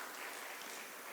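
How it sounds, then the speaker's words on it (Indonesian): A brief wash of applause from a church congregation at a Sunday worship service, dense, steady clapping lasting about a second. "Tepuk tangan Bapak Ibu."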